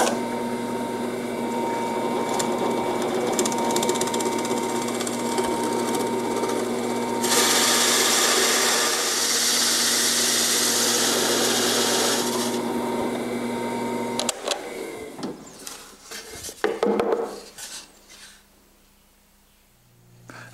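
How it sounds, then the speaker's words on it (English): Close machine drone of a drill press cutting a big hole with a hole saw, with a harsher rasping grind in the middle section, then slowing into scattered clunks and scrapes as it stops. "chuck this hole saw up in the drill press and drill out this big hole right in the middle"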